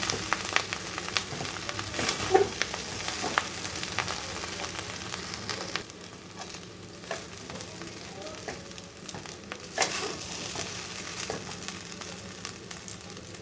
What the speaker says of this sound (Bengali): সবজিটা ভালো করে মিক্স করার পরে ভালো করে ভেজে নেবেন